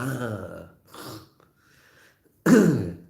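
A single harsh cough-like throat sound bursts out near the end after eating cream cake, following a few quieter throaty noises and breaths.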